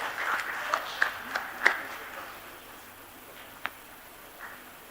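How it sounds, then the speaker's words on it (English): A conference audience gives a warm round of applause for the dignitaries gathered on stage, with a few sharp claps standing out over a soft, moderately distant patter that fades within a few seconds. "I will request our audiences to give a warm round of applause for our dignitaries"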